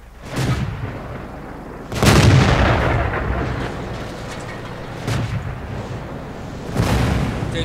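Heavy booms of a Grille self-propelled artillery gun firing shells in World of Tanks, several loud blasts spaced a few seconds apart, each followed by rolling reverberation.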